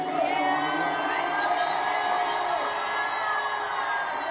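A large arena crowd cheers and screams for SZA, a dense sustained roar with shouts and whoops throughout, loud and continuous.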